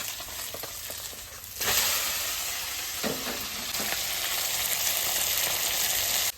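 Small fish fry in hot oil in a pan, giving a steady hissing sizzle that swells louder partway through and then holds, heard up close with no talking.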